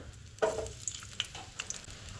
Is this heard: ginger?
yes